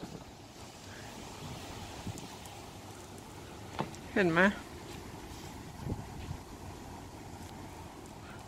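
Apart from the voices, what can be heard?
strong wind outdoors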